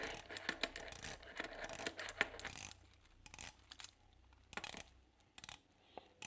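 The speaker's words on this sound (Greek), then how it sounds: "120 κλικ μόνης κατεύθυνσης και ακούγεται και ωραία" A diver watch's ceramic 120-click unidirectional bezel rotates in a rapid series of small, sharp metallic clicks, close up, with a short pause partway through before more ticking resumes.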